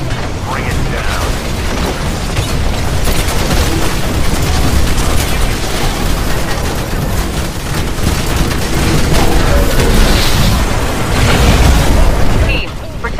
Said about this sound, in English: There's Mortar Titans shelling the Harvester like crazy.